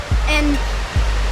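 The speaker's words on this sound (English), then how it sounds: "the waterfall here is the biggest one" A large waterfall on the Lewis River roars as a steady, loud broadband rush filling the whole clip, with a brief spoken word over it.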